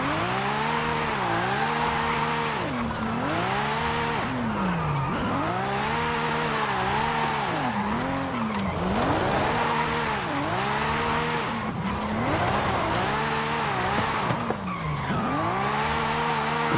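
In Forza Horizon 5, car tires squeal through a long drift run on a volcano road, the screech rising and falling in repeated arcs over a revving engine, loud and close with no talking.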